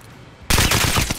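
A loud burst of rapid automatic gunfire in Warzone erupts after a brief quiet moment and keeps going as a dense, close rattle.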